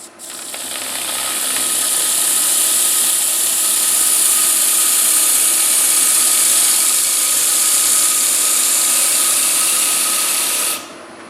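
A power sander with 100 grit sandpaper works a wooden bowl in one long continuous hissing, whirring run of about ten seconds, steady and close, then it cuts off abruptly.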